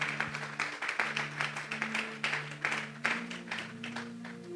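A church congregation claps rhythmically in unison as an offering of praise, steady beats continuing under sustained organ or keyboard tones.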